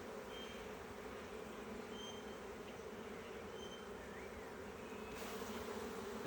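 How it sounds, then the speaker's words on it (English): Honeybees in a Long Langstroth hive buzz continuously and densely after the hive is tapped, a close, agitated drone that swells slightly toward the end. "You heard the bees get all excited."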